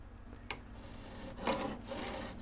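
A mill file rubs across the frets of a 1956 Gibson ES-125, with sheet metal guarding the body, making a few quiet, close rasping strokes in a short burst.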